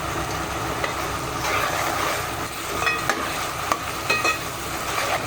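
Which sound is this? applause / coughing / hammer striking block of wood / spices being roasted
spices being roasted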